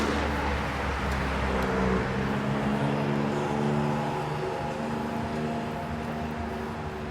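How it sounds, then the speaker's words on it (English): Steady street traffic beside Collins Avenue in Bal Harbour, Florida, a continuous engine rumble and road roar with a vehicle hum rising and fading, heard outdoors without talk. "It's actually pretty noisy out here with all the traffic next to Collins Avenue"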